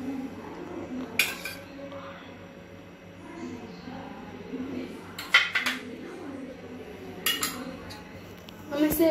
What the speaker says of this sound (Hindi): हम इसे अच्छी तरह से मिक्स कर लेंगे।